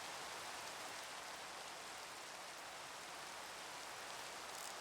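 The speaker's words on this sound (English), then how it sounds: "Yep, it's definitely raining." Steady rain falls in Minecraft as a soft, even hiss of drops, continuous and fairly quiet, with no talk.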